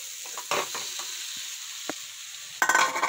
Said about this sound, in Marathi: छान परतून घेऊ, छान परतून गरम होऊ दे।